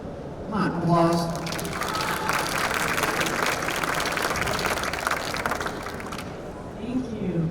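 At a health tech competition, an audience claps as a startup team is welcomed to the stage. Steady applause with some cheering runs under a presenter's voice at the start and end.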